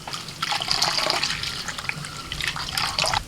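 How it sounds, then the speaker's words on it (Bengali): Fresh coriander leaves are rinsed under a running tap, a steady close splash of water hitting leaves and the sink for a few seconds. "দু তিনবার ভালো করে জল দিয়ে ধুয়ে নিচ্ছি"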